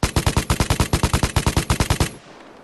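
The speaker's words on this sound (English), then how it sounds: "So let's shoot it with no recoil control." Vigor LMG in a video game firing one sustained full-auto burst with no recoil control, about twenty loud, evenly spaced shots over two seconds, then a brief fading tail.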